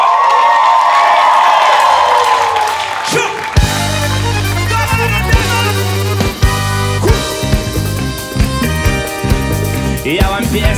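A concert audience claps along on cue to a tour song, rhythmic claps and crowd noise layered over loud pop music with synth chords.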